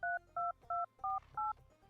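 Phone keys are pressed to dial a number, producing five short, evenly spaced DTMF beeps, clear and close, over a faint background hum.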